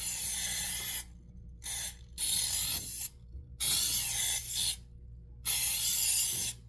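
Pam cooking spray hisses into a glass container in four separate bursts, each about a second long, with short silences between them. The sound is close and fairly soft.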